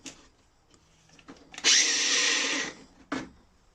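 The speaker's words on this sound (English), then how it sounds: "Then we've got a Ryobi angle drill, which gets used never." A Ryobi angle drill whirs in a few short bursts, with one sustained high-pitched spin of about a second in the middle, then a brief final burst, close up in a quiet workshop.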